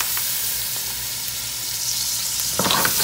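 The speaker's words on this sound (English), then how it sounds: "add just a little bit of liquid and scrape the bottom and then just stir your" Oxtail meat stirs in a pot with a little liquid, a loud continuous sizzle close by, and a firmer scraping across the bottom near the end.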